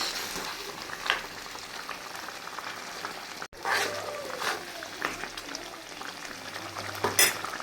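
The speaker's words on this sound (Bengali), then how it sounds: "এই আলুগুলো একটু কষাই নিব" Potatoes frying in a pan for a chicken-bone mung dal and potato curry, with a steady sizzle and scraping stirs, a brief dropout midway and some clinks of the utensil against the pan.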